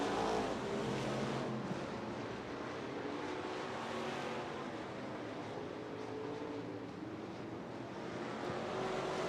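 Race cars lap a quarter-mile dirt oval, their engines a continuous, slightly distant roar that rises and falls a little as the pack circulates.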